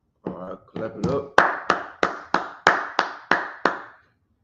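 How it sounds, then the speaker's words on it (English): A group at a brotherhood class claps hands in unison: about ten sharp, evenly spaced claps in a steady rhythm, with voices heard under the first few. "All right, clap it up."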